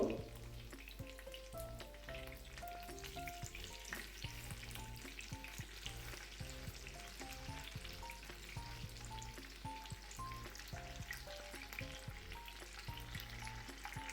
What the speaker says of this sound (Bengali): এপিট ওপিট করে আমি খুব সুন্দর করে এগুলোকে ফ্রাই করে নেব